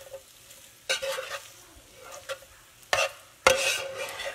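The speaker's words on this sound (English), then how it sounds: "I'm going to add in our pasta. I'm gonna stir this up." Pasta stirred in a sizzling skillet for a Tex Mex pasta dish, with sharp scraping sweeps at irregular intervals over a soft, steady frying hiss and no talking.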